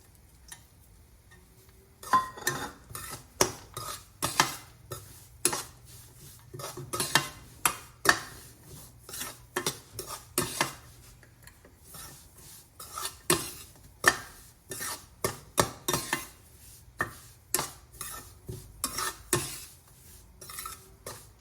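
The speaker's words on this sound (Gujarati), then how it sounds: "હવે આપણે જે આ બદામ નાની નાની કાપી મૂકી છે એ નાખીશું।" Small chopped almonds are stirred in a pan for a sweet ghughra filling, producing close, irregular scraping and clicking taps of a spoon against metal, repeating in bursts with brief pauses and no speech.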